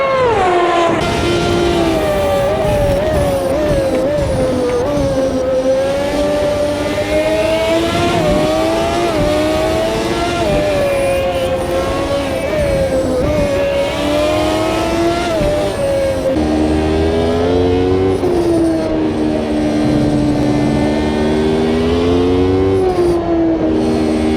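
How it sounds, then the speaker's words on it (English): Ayrton Senna's onboard race car engine in a racing video game screams continuously and loudly, its pitch rising and dipping through gear changes and corners, with no voices. "On board with Ayrton Senna as we go through 16, 17, and 18."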